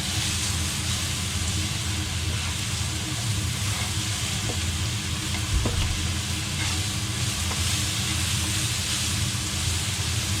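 Onions sizzle and fry in a pan while being stirred, a continuous loud crackling hiss with occasional scraping stirs, no talk.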